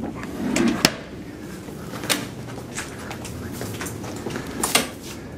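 A tape drawer in a classroom lab is pulled open and pushed shut, a few sharp knocks and rattles spread over several seconds against quiet room noise.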